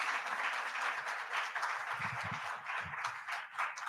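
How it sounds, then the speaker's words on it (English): An audience applauds a scholarship winner at a tertiary ICT scholarship presentation ceremony, the steady clapping of a crowd lasting the whole stretch at a moderate level, with a few low thumps partway through. "let us give her a round of applause"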